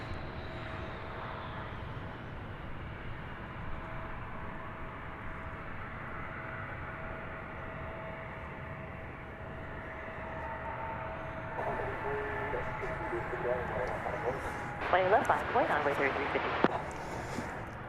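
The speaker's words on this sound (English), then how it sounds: "This is an Embraer 170 aircraft coming in from Killeen," An Embraer 170 jet arriving at Dallas Fort Worth airport from Killeen, Texas, gives a steady distant engine roar with a held whining tone that swells louder toward the end. A voice talks over it.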